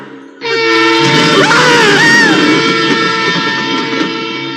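A loud, sustained train horn blares, holding steady for several seconds with a wavering pitch, close and dominant.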